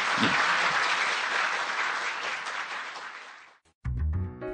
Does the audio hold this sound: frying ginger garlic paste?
no